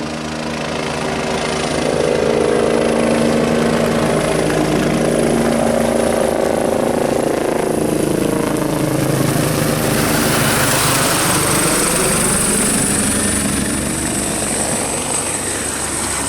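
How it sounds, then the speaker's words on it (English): A UH-72 Lakota twin-engine light utility helicopter roars loudly and steadily overhead, its engine whine and rotor noise rising and shifting in pitch as it passes by. "is a UH-72 Lakota twin-engine light utility helicopter"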